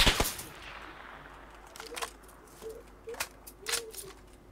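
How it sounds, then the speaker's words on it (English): Video game gunfire: scattered sharp shots crack out at a distance, a few single reports and short bursts spread across a quiet backdrop. "Oh, I'm getting shot from behind"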